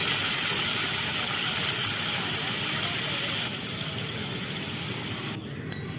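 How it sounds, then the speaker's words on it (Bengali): Mutton pieces drop into a hot pan of ground cumin, ginger and green chili paste, setting off a loud, steady hiss of sizzling that fades a little toward the end. "এবার মাংসগুলো ছেড়ে দিলাম।"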